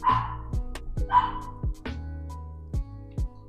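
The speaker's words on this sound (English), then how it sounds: "Can the dogs just shush?" Several dogs bark in short, sharp bursts, some overlapping and others spaced apart, with a few higher yips mixed in. The barks are fairly close and loud against an otherwise quiet indoor background.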